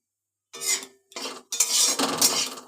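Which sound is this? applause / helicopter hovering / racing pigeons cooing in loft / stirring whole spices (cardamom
stirring whole spices (cardamom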